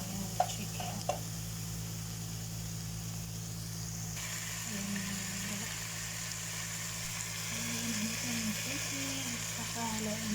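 Chicken pieces fry in a pan for chicken macaroni, giving a steady, low, continuous sizzle under a constant background hum, with a couple of faint clicks near the start.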